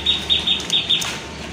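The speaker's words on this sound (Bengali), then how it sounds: "আরেকটা কবুতর চলে আসছে এখানে, টকটকা লাল।" A bright red male pigeon arrives with a rapid run of wing flaps, a few quick fluttering bursts close by, and no talking.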